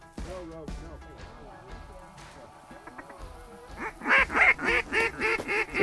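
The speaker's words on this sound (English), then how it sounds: "we got a lot of ducks up top" Ducks call in a rapid series of loud, close quacks that build toward the end, with people talking quietly over the start.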